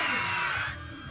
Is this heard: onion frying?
no